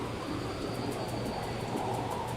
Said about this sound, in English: it sounds like a train is up in the sky